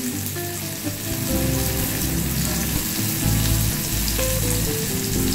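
A slit green chili and turmeric fry in hot oil, giving a steady, close sizzle with some crackle and a few stirring knocks beneath it.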